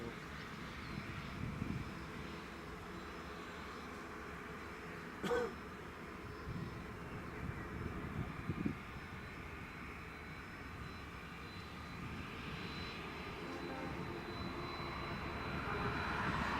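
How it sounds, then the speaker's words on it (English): A Jet2 airliner on approach to Leeds Bradford Airport rumbles faintly in the distance, its engine roar slowly swelling toward the end, with a throat clear and scattered nearby noises. "now the Jet2 should be just coming into sight any second now"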